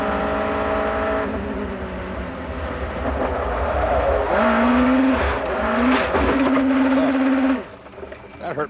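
An American Le Mans Series race car accelerates toward a corner, its loud engine note climbing in pitch in repeated surges over a steady roar, then dropping away near the end.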